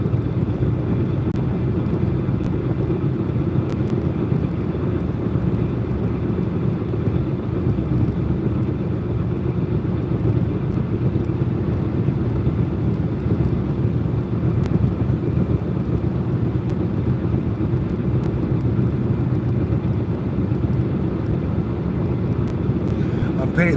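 A car drives along the road at over 50, giving a steady low engine and tire rumble throughout with continuous road noise inside the cabin.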